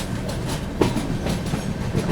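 The 12141 Patliputra SF Express rolls along the line after leaving Kalyan Junction, heard from inside a 2AC coach as a steady rumble with faint rhythmic clicks from the rails.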